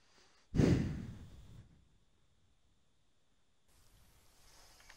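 A character in the video game Far Cry 6 lets out one loud, close breath that fades over about a second, then quiet before a soft airy noise returns.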